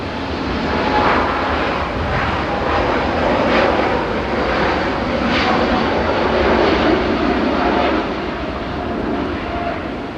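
An Ethiopian Airlines Airbus A350 departs Manchester Airport for Addis Ababa via Geneva, its jet engines giving a loud, broad, continuous roar that holds steady throughout.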